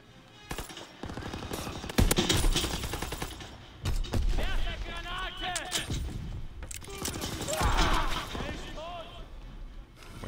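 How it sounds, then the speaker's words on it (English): Rapid bursts of gunfire ring out in a Battlefield multiplayer match, sharp repeated shots and volleys mixed with game effects, while a player talks over the action. "Where are we being shot at from?"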